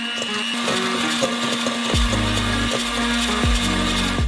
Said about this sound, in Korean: 푹신한 거품이 생길 때까지 믹서기로 휘핑해줘요.